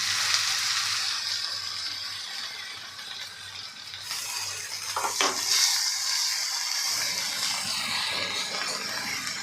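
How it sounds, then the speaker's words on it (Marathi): Masala paste sautéing in melted butter for restaurant-style mutter paneer, a steady close sizzle with scraping and stirring strokes throughout, briefly louder midway, with a low background hum and no talking. "छान असं आपल्याला हे परतून घ्यायचं आहे"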